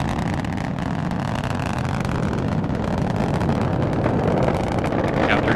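A Delta IV Heavy rocket with three boosters roars through launch, a loud, dense, unbroken rumble with wind buffeting and no voices.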